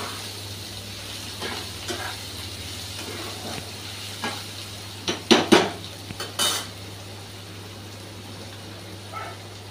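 Grated raw mango stirred into fried ingredients in a pan, a low sizzle with a few scattered spatula scrapes and a brief cluster of louder metallic clatters near the middle, otherwise quiet.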